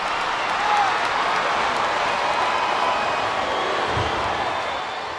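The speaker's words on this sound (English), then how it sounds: "This sellout crowd just can't get enough of these superstars." A sellout arena crowd in the wrestling game WWE Smackdown vs RAW 2008 roars and applauds steadily, a broad, distant wash of cheering with a soft thud partway through.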